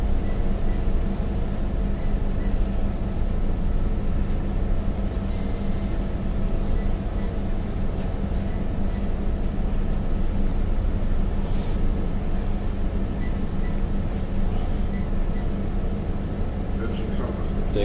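Steady low rumble of the tanker Seachem Analine's engine as it leaves Barcelona port at night, a constant drone with faint clanks and a few brief noises on top, and people talking over the hum.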